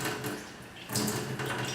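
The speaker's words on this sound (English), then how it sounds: "give it a little bit of a rinse" Water sloshes and splashes inside a Nikken PiMag sport bottle being rinsed out, a close, fairly steady wash of noise with a brief dip before the splashing picks up again.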